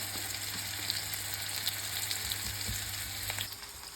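Close, continuous sizzling and crackling of Brussels sprouts frying in duck fat in a pan, with a few soft clinks and pops, no speech.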